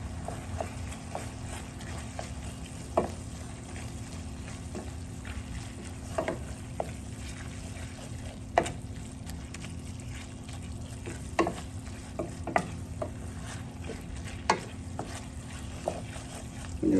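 Ground beef with tomato paste cooking in a pan, a soft continuous sizzle with occasional sharp clicks and scrapes of a utensil stirring, fairly quiet and steady.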